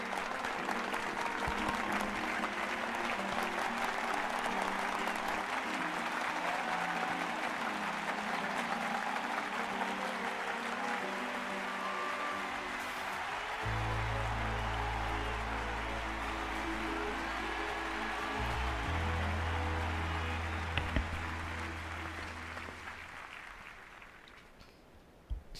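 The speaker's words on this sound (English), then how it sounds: "Slow clap." Sustained applause from a crowd plays as a slow clap in a Final Fantasy XIV cutscene. It runs steadily for the whole stretch over low music, then tapers off at the end.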